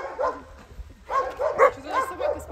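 A dog barking at a country dacha, several quick barks and yips in a tight cluster, fairly near, after a quieter stretch with some low voice-like sound.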